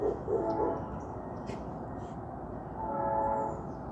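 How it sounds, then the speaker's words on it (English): A morning train passes at a distance, its horn sounding in long tonal blasts at the start and again later over a low, steady rumble of rail noise. "the morning train."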